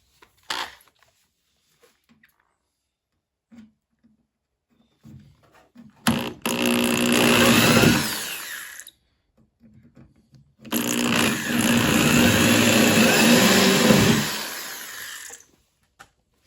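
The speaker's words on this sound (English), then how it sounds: "we got all the spot welds exposed, and we're gonna get to drilling." A power drill whines loudly drilling out spot welds on a 1964 VW Beetle convertible, in two long bursts of a few seconds each, separated by quiet gaps with faint handling noises.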